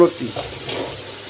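Chopped taro stolons go into spice paste frying in a pan, producing a short burst of close, moderately loud sizzling and hissing that settles into a steady fry.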